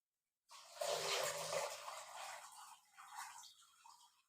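Water splashing and trickling close by as washed mustard greens are squeezed by hand, fading into softer drips.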